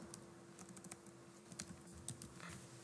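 Password being typed on a computer keyboard: a quick, quiet run of close key taps with uneven rhythm over a faint steady hum.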